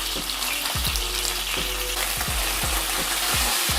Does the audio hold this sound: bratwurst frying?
yes